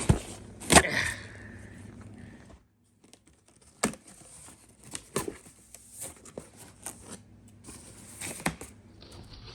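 Knife slicing open a cardboard headlight box, scattered close scratches, scrapes and crinkles of tape and cardboard with one sharp rip early on and short gaps of quiet between strokes.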